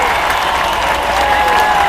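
Loud, sustained applause from a mushaira crowd in Patna welcoming a poet to the stage, a dense unbroken roar of many hands clapping with a faint murmur of the crowd beneath.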